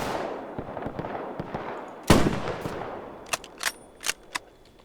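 Sniper gunfire in the Roblox war game Guerre de l'Est 2.5: one loud, sharp shot with a decaying tail stands out amid scattered distant battlefield pops and cracks.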